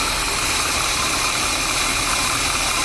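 A 1979 Chevy G20 custom van engine idles steadily with a carburetor loading up, giving a loud, continuous, even rumble close by with no talking.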